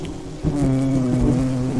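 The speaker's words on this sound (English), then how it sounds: "Oh my gosh, there's so many bees." A dense swarm of bees buzzes close by in a steady, droning hum with a strong low pitch that holds without pause, loud and near as if surrounding the listener.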